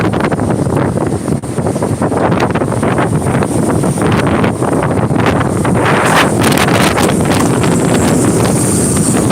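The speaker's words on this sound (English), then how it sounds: "Matter of fact, it's windy enough to push me backward." Strong wind roars and buffets continuously against the microphone, a loud, gusty rumble with no let-up.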